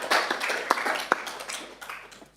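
A council meeting audience applauds a retiring council member, with scattered, moderately close claps forming a brief, uneven round of applause.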